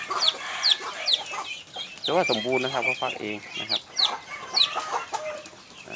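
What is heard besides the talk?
hen and chicks clucking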